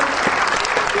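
An audience at a training event gives a standing ovation, with dense, loud applause filling the whole brief moment.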